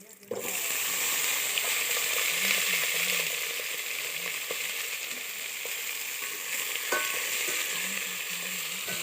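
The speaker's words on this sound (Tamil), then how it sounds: "போட்டு எல்லாத்தையும் போட்டு நல்லா வதக்கிக்கணும்" Tomato and other ingredients for Thanjavur jackfruit-seed dal kuzhambu are sautéed in a pan, making a loud, continuous close sizzle that starts abruptly. Occasional stirring scrapes and faint background talk run underneath.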